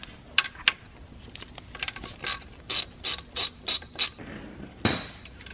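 A hand ratchet works loose a 10mm corner bolt on a BMW S54 engine during VANOS reassembly, giving short bursts of crisp clicking pawl strokes, close and fairly quiet, with brief pauses between swings.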